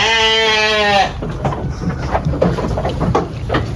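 Merino Texel sheep give one loud, close, wavering bleat lasting about a second, then a scattering of rustling and shuffling noise with no further calls.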